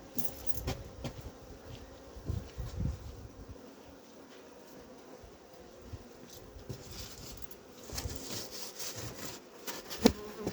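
A steady drone of honey bees buzzing around a hive, with scattered knocks and handling noises breaking through now and then.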